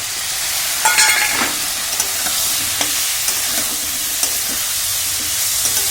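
Ground mustard, cumin and chili spice paste with turmeric and eggplant sizzles steadily in a hot pan, a constant loud frying hiss broken by light scraping knocks of a spatula stirring every second or so.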